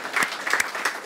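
A church congregation claps in a brief, dense burst of applause, close and fairly loud, with no voices over it.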